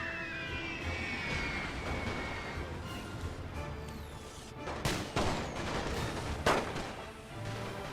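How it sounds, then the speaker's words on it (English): Scattered infantry rifle volleys in a World War I battle game, distant and muffled crackling shots, with a few sharper cracks standing out amid a low rumbling battlefield background. "Now they're opening fire on my infantry, which is coming within range."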